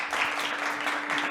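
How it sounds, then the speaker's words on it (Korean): Dense audience applause welcoming a robotics lecturer to a university lecture hall, a continuous wash of many hands clapping at moderate volume with a faint steady hum beneath. "큰 박수로 환영하겠습니다."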